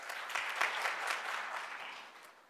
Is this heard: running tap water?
no